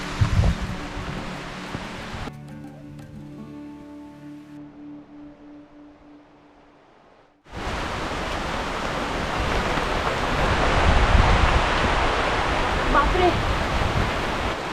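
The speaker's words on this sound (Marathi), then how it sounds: "खूप जोराचा वारा आलेला आहे" Strong gusting wind roars on an exposed hill-fort trek at Mangad, loud and close with heavy buffeting. It drops away for a few seconds midway, then surges back even stronger.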